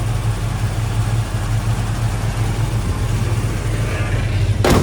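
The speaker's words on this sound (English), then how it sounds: "Engine purrs like a kitten." A 1973 Dodge Charger SE muscle car with a 400 engine and 4-speed idles steadily and smoothly, a low even rumble held close and alone throughout.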